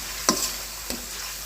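Spices and aromatics being sautéed in hot oil in a pan for a chicken curry, with a steady hissing fry and two short scrape-like knocks from a spoon against the pan.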